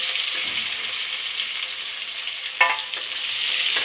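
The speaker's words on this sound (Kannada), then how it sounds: "ಹಾಗೆ ಗ್ಯಾಸ್ ಸ್ಲೋ ಮಾಡ್ಕೊಳ್ಳಿ. ಆನಿಯನ್ ಹಾಕ್ಕೊಳ್ಳಿ." Onions frying in a pan on a gas stove for pulao give a loud, steady sizzle close up, with a brief stirring scrape near the end.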